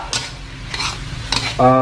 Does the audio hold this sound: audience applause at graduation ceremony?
no